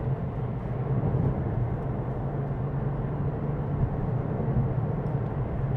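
A Porsche 911 997.2 Carrera 4 with about 95,000 miles under way on a test drive, giving a steady, loud engine and road drone that holds even throughout, with no talk.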